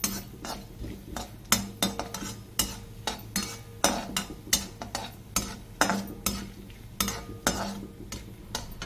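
Fried chickpeas stirred in a pan with a metal utensil while cooking upma: rhythmic, regular scraping and clinking strokes roughly twice a second over a soft sizzle, fairly quiet and close, with no talking.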